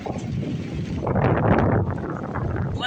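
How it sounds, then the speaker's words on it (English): Strong wind gusts outdoors during stormy Oregon weather buffet the microphone with a loud, rough rushing roar that swells midway and stays constant, with no talk. "It's getting too windy out here"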